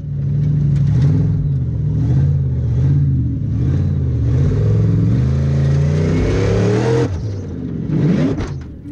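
A 900-horsepower supercharged Icelandic Formula Offroad car engine revs hard and close, rising and falling in repeated surges before climbing to a sustained high-pitched roar that drops away at the end.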